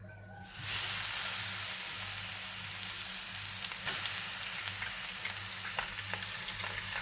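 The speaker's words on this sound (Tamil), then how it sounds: "இதே நெய்யிலே கேரட்டையும் நமக்கு கொஞ்சம் ஃப்ரை பண்ணி எடுக்கலாம்." Carrots hit hot ghee for carrot halwa, and a steady, loud, close sizzle starts almost at once and holds, with faint scraping stirs over it and no talking.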